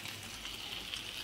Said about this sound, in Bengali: এই যে মাছ ভাজা হয়ে যাচ্ছে